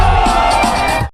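A cartoon audience claps and cheers as one loud, dense crowd wash. It holds steady for about a second, then cuts off abruptly.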